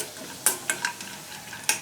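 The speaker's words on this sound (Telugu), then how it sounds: "బాదం పప్పు, జీడిపప్పు కూడా ఇలా మంచిగా ఫ్రై అయిపోయిన తర్వాత" Almonds and cashews frying in a pan with a soft sizzle, broken by a few sharp metallic clinks of a spoon stirring against the pan.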